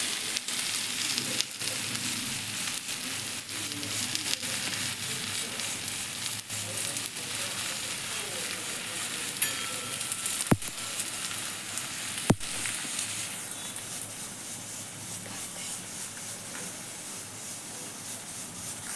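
Methi thalipeeth fries in a little oil on a pan, giving a steady soft sizzle and crackle throughout, with two sharp clicks partway through and no talking.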